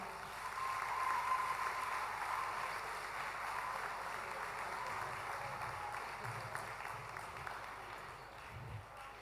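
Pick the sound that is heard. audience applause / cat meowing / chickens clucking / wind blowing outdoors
audience applause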